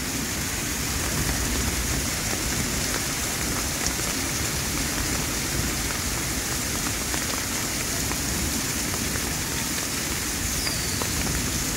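A heavy downpour in Keçiören pours down as a dense, steady hiss of rain on surfaces, loud and unbroken throughout with no voices.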